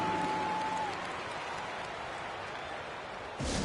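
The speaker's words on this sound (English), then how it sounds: "Give a big round of applause for young Clippers Spirit Rescue." Arena crowd applause in the NBA 2K23 basketball game swells as a steady wash of clapping, fading slightly before a brief louder burst at the end.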